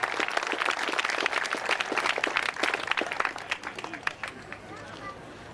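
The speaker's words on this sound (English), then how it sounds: "Let's have another round of applause for our firefighters here." A crowd applauds firefighters at an outdoor Terry Fox headshave fundraiser, dense clapping mixed with cheers and chatter that thins out into scattered claps toward the end.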